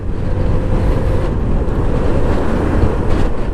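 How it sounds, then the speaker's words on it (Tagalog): Strong sea wind blows across the microphone at the seaside, a loud continuous low rumble and roar with no gaps, carrying no voices. "Ang presko ng hangin,"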